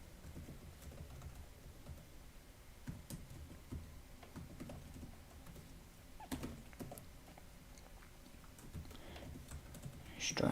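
Keyboard typing during an Arduino coding session, faint clicks running steadily through the background with soft talk now and then.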